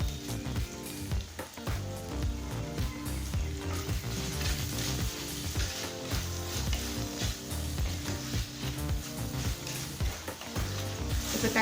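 Tomato with salt sizzles in a pan for Chettinad mutton kuzhambu, a continuous frying hiss with light stirring, partly buried under loud rhythmic background music throughout.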